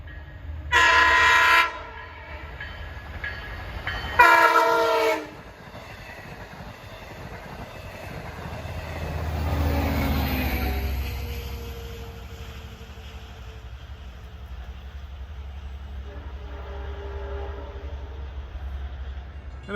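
Westbound train 2771 sounds two loud horn blasts, then rumbles past with a rising, swelling roar of cars on the rails that fades slowly into the distance.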